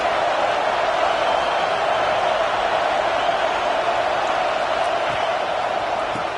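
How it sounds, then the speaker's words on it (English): A stadium crowd at a Tennessee versus Alabama college football game sends up a sustained, loud roar of cheering and noise that holds steady throughout. "This crowd going to try to make life miserable for these guys."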